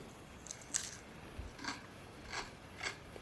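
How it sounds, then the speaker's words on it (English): Chewing played back from a recording, heard as quiet, soft crunchy bursts that repeat about four times at irregular intervals against a faint hiss, with no talking. "It's chewing."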